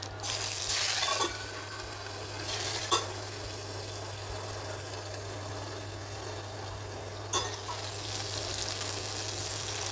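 Red and then green chillies dropped into hot oil for a simple lemon dal tempering, giving a steady broadband sizzle throughout with a couple of brief sharp crackles, close and continuous with no talking.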